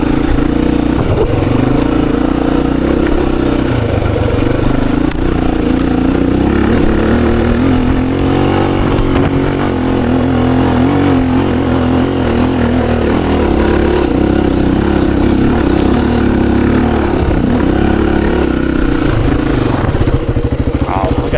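A 26-year-old Honda XR400 thumper pulling up a long enduro singletrack climb, its loud engine droning steadily near the rider with shifting throttle pitch and wind noise throughout.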